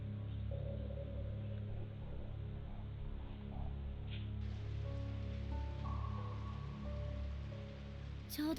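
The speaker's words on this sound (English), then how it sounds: "It was a rainy evening after school, just like this one." Steady rain falls on a rainy evening, a continuous soft patter on surfaces with a low hum beneath it and no voices.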